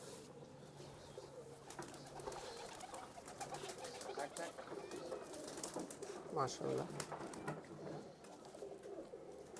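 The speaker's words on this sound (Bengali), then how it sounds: "অনেক সুন্দর কবুতর" Giribaz pigeons coo softly in the background, with a brief flutter partway through, while someone talks over them.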